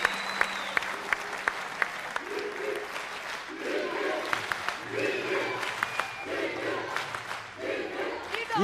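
A studio audience applauds a guest on a televised singing competition, loud sustained clapping mixed with cheering and whoops, rising in bursts of shouting over the steady clapping.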